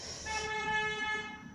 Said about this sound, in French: Des gens qui klaxonnent